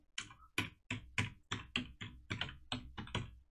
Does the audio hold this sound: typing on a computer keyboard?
yes